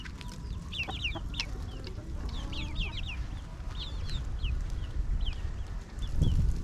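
Chickens, with their chicks nearby, cluck and chirp repeatedly in a backyard coop, quick high calls scattered over a low outdoor rumble.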